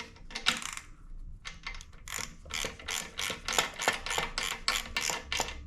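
Bolts on a Champion 7-ton gas log splitter are tightened with a ratchet wrench, giving close, crisp ratcheting clicks in quick rhythmic bursts, the pace picking up into a steady run of clicks.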